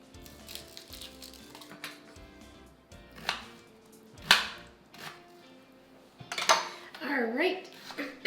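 Food is chopped in a home kitchen during a pizza cook-off, with scattered knife taps on a board, clattering dishes and a few sharp knocks, while people talk now and then.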